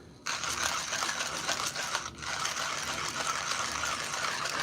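Burmese Bear personal electric coffee grinder grinding coffee beans, a steady close buzzing whir that starts abruptly and runs continuously with one brief dip, no voices.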